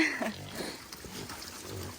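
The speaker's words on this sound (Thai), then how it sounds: "ว่าน้องหมูทะเลาะกัน" Newborn piglets squeal shrilly as they fight on a hill-country farm, with a sharp squeal near the start and rough, scuffling cries after it, close by and fairly loud.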